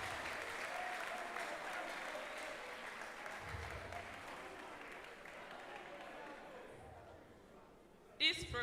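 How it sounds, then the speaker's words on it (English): An audience at a spoken word poetry contest final applauds in a broad, continuous wash of clapping with some crowd noise underneath, fading gradually before a brief louder burst at the very end. "let's give a round of applause for all our..."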